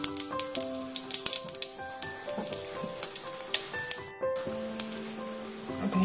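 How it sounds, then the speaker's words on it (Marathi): Cumin seeds sizzle in hot oil for a Maharashtrian green peas karanji filling, a steady bright crackle broken by sharp pops and stirring clinks, with one brief dropout near the end. "आता तेल गरम झालेले, त्याच्यात जिरे टाकायचे"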